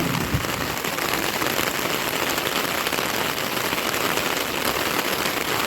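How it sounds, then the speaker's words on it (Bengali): Heavy rain pouring outside during a thunderstorm in the Sundarbans, a loud, steady, dense hiss of rain on surfaces continuing unbroken throughout, with no talking. "বাইরে প্রচুর বৃষ্টি হচ্ছে বিদ্যুৎ চমকাচ্ছে"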